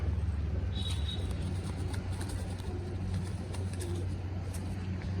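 Pigeons sit out in the sunshine after rain, giving faint, low cooing with a brief chirp. Behind them run a steady low hum and distant traffic.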